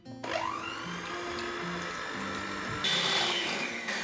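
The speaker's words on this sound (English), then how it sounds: "I'll blend everything together with an electric blender" An electric blender whirs steadily through sugar, vanilla extract and eggs for orange cake batter, a loud continuous motor drone with shifting pitch that rises briefly near the end.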